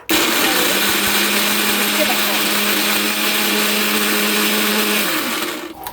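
A mixer grinder whirs loudly and steadily while grinding two large onions into paste, a close, continuous motor drone that cuts off near the end.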